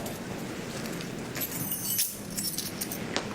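A bunch of keys jangles softly in a few scattered metallic clinks over steady background noise, with no talk.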